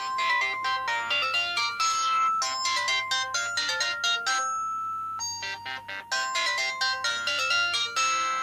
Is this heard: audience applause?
no